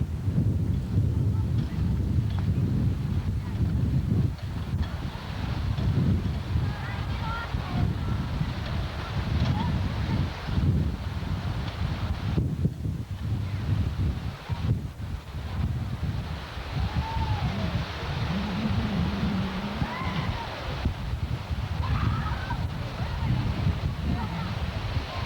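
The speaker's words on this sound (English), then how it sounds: "It's a bit windy today, but it's pretty nice." Wind blows steadily outdoors, buffeting the microphone with a constant low rumble and gusts throughout, while people talk nearby.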